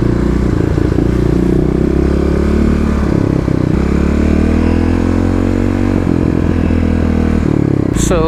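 A Kawasaki KLX351 with EFI idles roughly and revs close by, its fuel-injected engine bogging slightly off idle with steady loud running and clatter, then a sharp rise in revs near the end.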